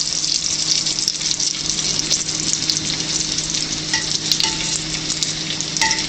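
Edible flower blossoms fry in a pan with a steady, loud close-up sizzle and crackle that runs continuously without pause.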